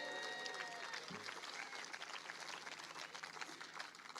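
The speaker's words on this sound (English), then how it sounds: "a well-deserved applause" Steady applause from an audience at a Scottish independence rally, a continuous patter of many hands clapping at moderate volume, with a faint voice at the start.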